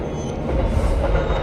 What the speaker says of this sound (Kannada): ರೈಲು ಮತ್ತು ಅದರ ಹಾರ್ನ್ನ ಗರ್ಜನೆಯ ಬಿರುಸು.